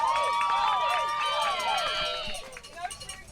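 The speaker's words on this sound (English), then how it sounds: "as you can hear, the archers have been welcomed in by a large crowd of both A&M and Columbia" A large crowd of college archers from A&M and Columbia cheers and shouts at an archery nationals venue, excited voices rising loud and sustained for about two seconds before thinning into scattered calls.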